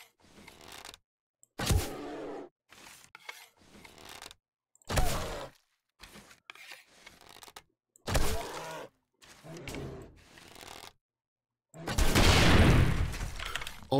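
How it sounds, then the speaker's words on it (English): An angry bear smashing into a house in the video game 7 Days to Die: a series of loud, separate crashing and shattering impacts with silent gaps between them, ending in a long, heavy burst of breaking. "I have an angry bear in my house."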